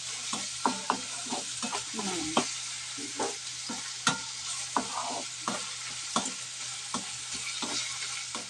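Vajdi, goat tripe, is stirred and fried in a pan with onion. A steady hissing sizzle runs under repeated spoon scrapes and knocks against the pan at a fairly regular rhythm, with no talking.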